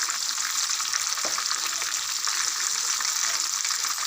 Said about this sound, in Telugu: లో ఫ్లేమ్లో మాత్రమే మనం ఫ్రై చేసుకోవాలి.